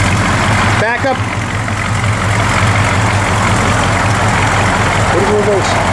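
A 1972 Plymouth Road Runner engine idles steadily and loud up close, a deep continuous rumble running throughout, with people talking briefly over it.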